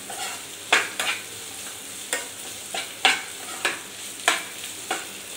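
Onions and cashews frying in a pan while being stirred, a soft steady sizzle broken by about ten sharp scraping strokes of the spoon at uneven intervals.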